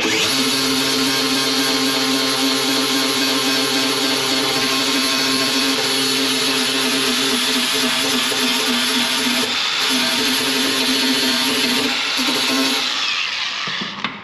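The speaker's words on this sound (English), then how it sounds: "because this metal is so thin, I can actually grind through it all completely" An angle grinder cuts steadily through thin spot-welded sheet metal on a Ford Transit van, a loud continuous whine that holds for about thirteen seconds before winding down, with no talking.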